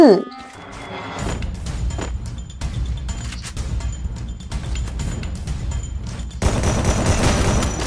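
Sustained automatic fire from an M4A1 rifle in a video game, a dense, rapid volley of close, loud shots that runs nearly unbroken and swells louder near the end, with a voice talking over it.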